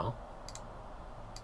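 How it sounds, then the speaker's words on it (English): Computer keyboard spacebar pressed while playing a video game, a couple of quick light double clicks close to the microphone over a low background hum. "you are going to have to listen to my spacebar"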